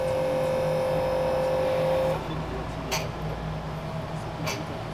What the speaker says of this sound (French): Là, le bruit qu'on entend, c'est le test des freins